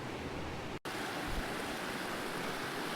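Fast-running creek water in the bottom of a desert canyon rushes in a dense, steady wash of broadband noise, loud and close, with a brief dropout near the start and no voices.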